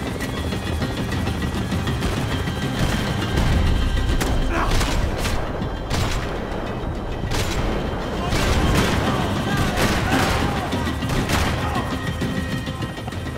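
Gunfire in the shooter Max Payne 3 during a chaotic chase: sustained, dense shooting and mechanical roar fill the whole stretch at a steady loud level, with occasional sharper crack peaks and shouted voices mixed in.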